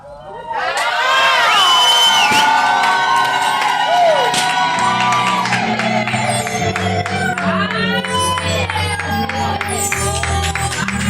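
Wedding guests at a Luhya and Kamba couple's ceremony burst into loud, sustained cheering, whooping and shouts with some clapping, a lively crowd roar that swells and carries on, with bright shrieks and chatter mixed throughout.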